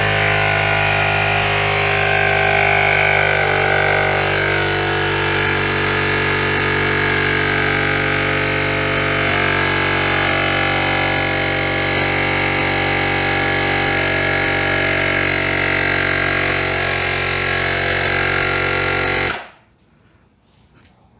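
A Syncwire portable air pump inflating a tire runs as a loud, steady electric motor drone with a buzzing mechanical tone, continuous for about twenty seconds before cutting off abruptly into near silence.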